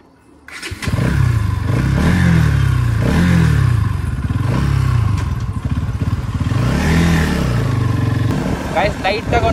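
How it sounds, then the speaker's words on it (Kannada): Bajaj Pulsar NS200 BS6 200cc motorcycle exhaust, revved up in several rising and falling throttle blips over a steady idle, close and loud, with a voice faintly over it. "ಎಕ್ಸಾಸ್ಟ್ ಸೌಂಡ್ ಇಲ್ಲಿ ಕೇಳಿಸಿದೆ"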